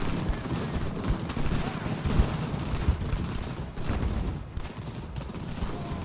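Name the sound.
gunfire from troops in the video game Ultimate General: Revolution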